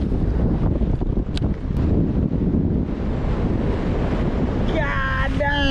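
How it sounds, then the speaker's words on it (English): A strong north wind gusts steadily across an open microphone outdoors on a bass fishing outing, a loud, constant roar with low buffeting and a brief tonal squeal near the end. "Wind just came out of the north out of nowhere."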